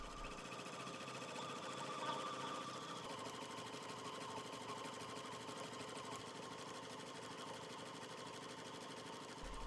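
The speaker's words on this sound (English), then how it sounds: "Stitch the next step of the design, which is going to do a satin outline around 3 of the sides of the pocket." An embroidery machine stitches a satin outline onto fabric with a steady, fast, continuous mechanical whir and needle patter, moderately quiet and unbroken, with no voices.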